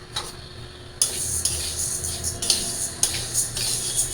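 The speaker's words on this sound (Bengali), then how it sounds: "আমি এই যে মাসকলার ডালটা ভাইজা নিই" Black gram (mashkalai) dal being dry-roasted in a pan at home: a steady gritty rustle of grains stirred against the metal, with sharp scraping strokes recurring about twice a second, close up.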